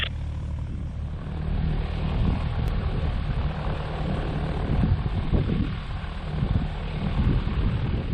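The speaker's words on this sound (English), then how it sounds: "Taxiing on the runway." RANS S-21 light propeller aircraft taxiing on a runway, a steady close engine drone and low rumble with a swelling roar as the throttle builds, heard alone.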